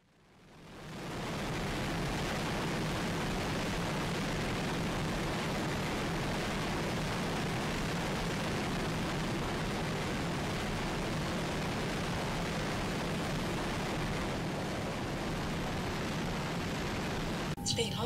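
An aircraft takes off in the video game Minecraft, a dense, loud, steady engine roar that swells over the first second and a half and then holds constant for the rest of the run.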